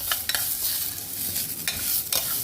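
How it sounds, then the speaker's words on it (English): Rice is stirred in hot ghee in a pan, making a continuous close sizzle broken by a few brisk scraping strokes of the spoon, with no talking. "Now the rice here needs to be stirred until it begins somewhat crispy."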